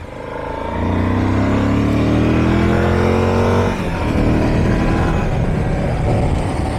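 A car accelerates hard up to 55 in third gear, its engine note rising smoothly in pitch with a steady, effortless roar heard from inside the cabin, loud and close, with a brief shift in tone partway through.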